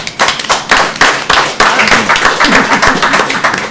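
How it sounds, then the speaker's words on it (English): A burst of applause from a conference audience, steady rhythmic clapping that holds fairly loud throughout before easing slightly toward the end. "I don't often get clapped."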